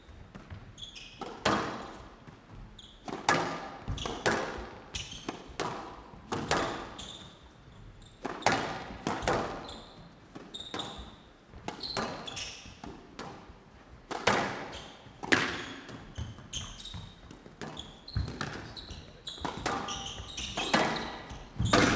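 A professional squash rally at the Grasshopper Cup 2023 sends the ball cracking off rackets and walls in sharp, echoing thwacks. The hits come at an uneven, steady pace over a long exchange, with no commentary over them.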